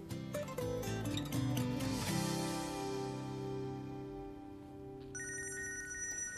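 A telephone rings repeatedly in a room, a loud electronic trilling ring that carries on for several seconds over a soft musical backdrop, with a brighter higher ringtone taking over near the end; no one speaks.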